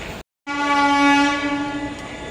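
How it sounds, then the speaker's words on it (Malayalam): A Shoranur–Nilambur train hauled by an electric locomotive sounds a loud, sustained horn close by for about two seconds, cutting in abruptly and holding steady with rail noise beneath. "ഷൊർണൂർ നിലമ്പൂർ വണ്ടിയാണ് പോകുന്നത്"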